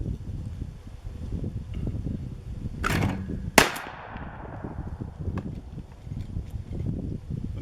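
A Verona SX405 12 gauge semi-automatic shotgun fires a single sharp, loud report outdoors at a range, followed by a metallic clank and a decaying echo, with steady wind noise throughout.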